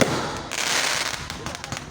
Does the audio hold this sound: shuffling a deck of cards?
no